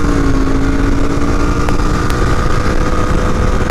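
Royal Enfield GT 650 motorcycle pulling hard through the gears, a loud close engine roar with rising pitch, a brief shift break, and heavy wind rush throughout.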